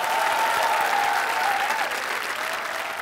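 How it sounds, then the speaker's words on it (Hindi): A Hindi television game show's studio audience applauds for about three seconds: dense, steady clapping that stays loud and even throughout, with a faint crowd murmur underneath. "तालियां उनके लिए।"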